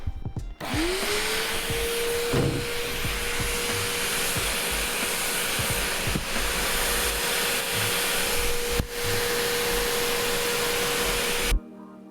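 A vacuum cleaner whirs up and runs steadily with a loud, continuous drone and hiss inside an Evo 9 car during an interior clean, then cuts off abruptly near the end.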